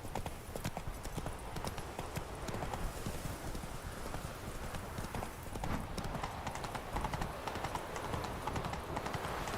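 Horse hooves clip-clopping steadily at a gallop in The Witcher 3, a continuous close rhythmic pounding of hoofbeats over an outdoor game soundscape.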